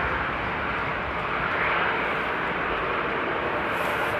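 A Paw Patrol livery airplane taxiing at Amsterdam Airport after Storm Henk gives a steady, moderately loud engine roar that holds throughout, with no voices.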